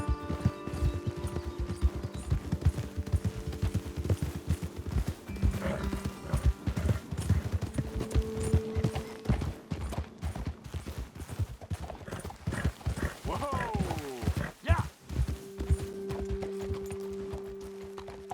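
Horses' hooves clip-clop steadily in Red Dead Redemption 2 as riders approach a ledge overlooking a road, with a horse whinnying briefly partway through and the gallop slowing toward the end.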